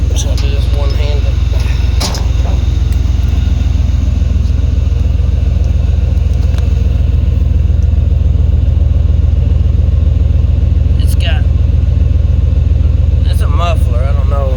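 A 1990 Chevy OBS truck engine rumbles steadily through its muffler, a deep continuous idle close by, with a couple of brief clanks.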